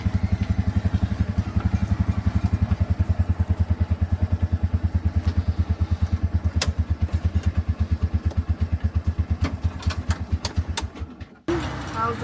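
A three-wheeled tuk-tuk's small engine putters steadily in a fast, even rhythm while being driven across Sri Lanka. It stays close and loud for about eleven seconds before cutting out briefly near the end.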